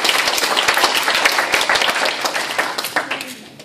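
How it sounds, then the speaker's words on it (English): A Toastmasters audience at a student club bursts into sustained applause, dense overlapping clapping that holds steady for a few seconds and then thins out toward the end. "Please give him a big round of applause for that."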